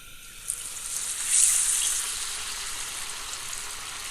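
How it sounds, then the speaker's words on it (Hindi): Masala fish lowered into very hot oil for a crispy Lahori-style deep fry, giving a steady broadband sizzle that surges loudly around the drop and then settles into a continuous hiss, with no talking. "अब मछली को फ्राई करेंगे।"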